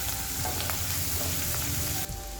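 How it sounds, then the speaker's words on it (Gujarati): Garlic cloves and a piece of ginger sautéing over a high gas flame, a steady loud sizzle and crackle with light stirring scrapes, no voices. "ગેસની ફ્લેમ ફાસ્ટ જ રાખવાની અને આપણે સોતે કરીશું"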